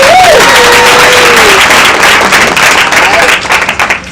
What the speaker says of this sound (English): So can we just give one more round of applause for one of our sponsors,